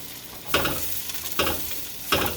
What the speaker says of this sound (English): you take your spatula and you push all the edges together as best you can